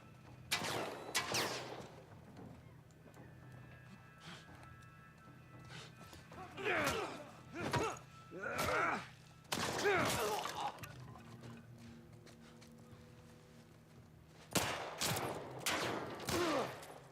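Bursts of gunfire in The Last of Us, firing in separate volleys with pauses between them, loud and close over a low game ambience, with players' voices talking around the shots.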